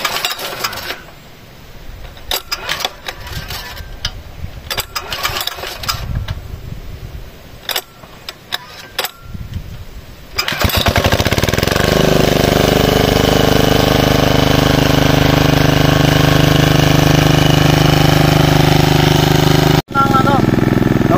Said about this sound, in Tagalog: maghihintay po tayo ng mga kahit 2 minutes para uminit yung makina.